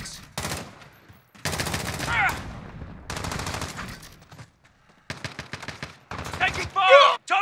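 Gunfire in the Call of Duty Modern Warfare video game, bursts of rapid automatic shots in several loud volleys separated by short pauses, with a few sharper cracks near the end.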